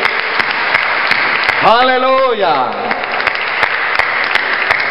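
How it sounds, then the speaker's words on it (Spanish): A church congregation claps steadily through the whole stretch as a voice over the sound system shouts a brief exclamation. "Denle un aplauso fuerte al Señor."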